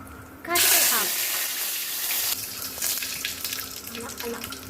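Mustard seeds, cumin and a pinch of asafoetida hit hot oil with a sudden loud sizzle, tempering for a batter dish. The sizzle stays as a steady bright hiss with a brief voice near the start.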